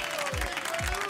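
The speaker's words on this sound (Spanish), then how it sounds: "Fuerte el aplauso para el Chino Peralta" An audience applauds Chino Peralta with a short burst of clapping, and a voice carries over the top.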